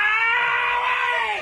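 A man screams while getting his leg waxed: one long, loud, sustained high-pitched cry lasting over a second, tapering slightly at the end.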